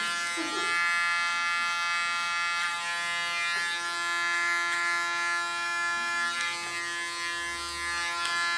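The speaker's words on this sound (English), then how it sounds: "I give a little bit the sensation of a clipper cut." Electric hair clippers buzz with a steady, close-up hum while cutting long hair short, the motor tone holding throughout with slight shifts as the blades move.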